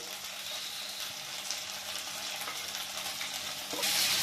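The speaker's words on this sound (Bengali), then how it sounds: "বেবিকর্নগুলো সব কড়াই দিয়ে দিতে হবে ভাজার জন্য" Steady sizzle of baby corn frying in mustard oil in a pan, continuous and close, with a brief louder hiss near the end.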